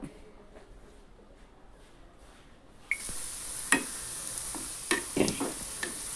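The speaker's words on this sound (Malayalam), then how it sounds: "ഒരു ചട്ടി അടുപ്പത്ത് വെച്ച് അതിലേക്ക് ചെറിയ ഉള്ളി കഷ്ണം വെട്ടിയിട്ട് കൊടുക്കുക കുറച്ച് വെളിച്ചെണ്ണ കൂടി ഒഴിച്ച് കൊടുക്കുക" Sliced shallots frying in coconut oil in a pan, a steady sizzle that swells from quiet to loud about halfway through, with sharp crackles and pops near the pan.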